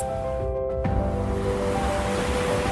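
Sea waves washing in at Alappuzha beach in Kerala, a steady, broad surf roar with faint wind, continuous and fairly loud throughout, no voices.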